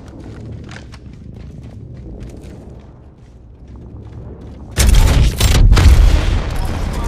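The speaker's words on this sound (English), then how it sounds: "Use this gravity cannon." A gravity cannon launch in Apex Legends: low rumbling game ambience gives way to a sudden loud whooshing burst that carries on for the final couple of seconds.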